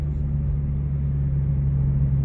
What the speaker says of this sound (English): it's the car's engine braking a little bit. I can kind of hear the rumbling.